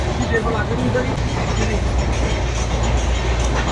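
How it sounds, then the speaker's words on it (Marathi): A fast express train rumbles along steadily at speed without stopping, heard from inside a passenger carriage, a continuous loud roar with low rattling from the carriages and no breaks. "एकदम फास्ट ट्रेन आहे वाटतं"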